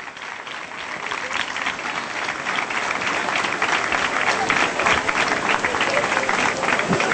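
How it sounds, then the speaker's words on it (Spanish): Applause for the mayor at a local festival, a dense, crackling mass of many hands that swells and holds across several seconds, fairly close and lively, with a few voices mixed in. "Fuerte el aplauso para el señor alcalde."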